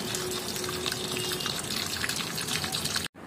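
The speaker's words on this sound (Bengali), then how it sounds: "আমি জলে এই গাছের মাটিটাকে একটু ধুয়ে নেব, যাতে এর রুটসগুলো পুরো খুলে যায়।" Water gushes and splashes steadily while soil is washed off a potted plant's roots, a dense close wash of sound that cuts off abruptly near the end.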